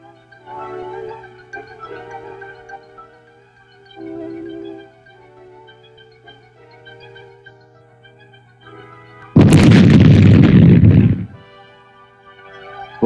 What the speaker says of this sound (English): these mines were destroyed by demolition experts using charges of plastic explosives